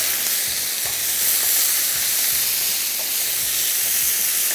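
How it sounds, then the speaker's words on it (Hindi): Chicken sandwich filling seasoned with salt, oregano and lemon juice fries on high heat, giving a loud, continuous close sizzle and hiss, with faint stirring scrapes underneath. "इसके बाद तेज़ आंच पे इसको हम करेंगे फ्राई"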